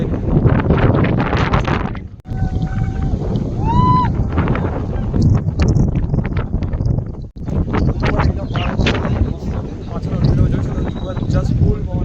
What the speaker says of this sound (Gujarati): જસ્ટ ફૂલ પવન આવે છે. ગજબ જોરદાર.